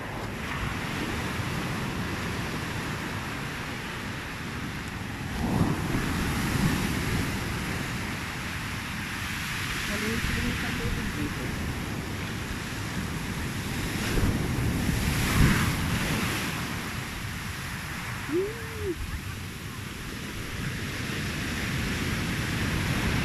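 Ocean waves washing onto a shore, a continuous surf roar with periodic swells of louder breaking water, heavy wind buffeting the microphone throughout.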